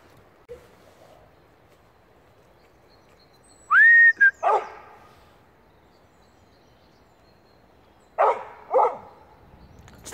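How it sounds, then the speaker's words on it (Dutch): A dog barks outdoors during a photo shoot, a loud close bark followed by a couple more, then quiet, then two further barks near the end, with no talking. "En dat je blaft."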